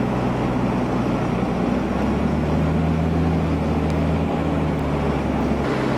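Fendt Favorit 900 Vario tractor accelerating with a continuous, fairly quiet engine drone and broadband mechanical noise, steady for the whole stretch with no talk.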